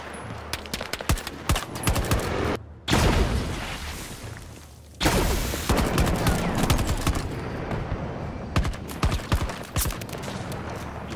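Gunfire in the video game Battlefield 2042 comes as dense bursts of rapid automatic shots and heavy booms, loud and close, with a brief quieter pause partway through before the firing resumes.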